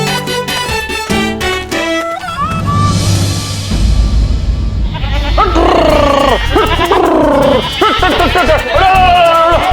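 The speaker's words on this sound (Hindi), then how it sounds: "अरे बकरियों को अंदर ले लेना" Goats bleat loudly and repeatedly in a wavering chorus close by, with a voice talking over them near the start.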